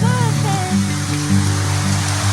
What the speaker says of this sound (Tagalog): Tapos lumakas pa yung alon.